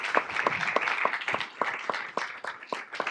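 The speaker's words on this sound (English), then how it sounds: "Let's give them all a round of applause." Scattered applause for speakers at a planning workshop: fairly sparse, distinct claps in an irregular rhythm, moderately loud and close, with no talking over them.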